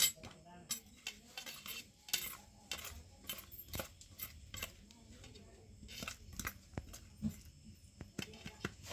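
A spice, chili and oil mixture with water is stirred in a vessel with a metal utensil, giving a string of faint, irregular clinks and scrapes against the pot; no talking.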